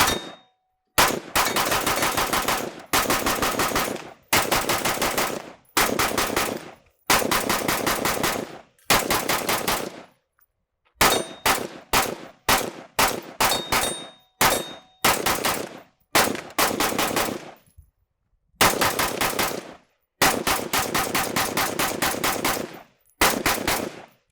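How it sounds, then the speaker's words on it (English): Rapid bursts of fire from a DTT rifle fed by a 100-round magazine, shooting at a steel target outdoors; loud close strings of shots separated by short pauses, with faint metallic pings from the steel between bursts. "Let's shoot another 220 rounds. We'll go ahead and start off with the nice 100-round mag here. Oh, look, our steel target."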